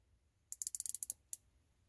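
Invicta 1953 wristwatch bezel turned by hand, a quick run of about nine sharp, close ratcheting clicks followed by one more click after a short pause, in an otherwise quiet room.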